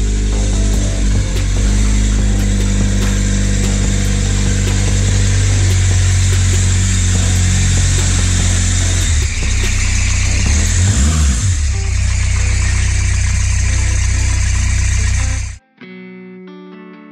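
A 1981 Volkswagen Rabbit pickup with a 1.6 diesel engine accelerates hard in third gear, a loud, steady engine drone rising in pitch over several seconds from inside the cab before cutting off abruptly.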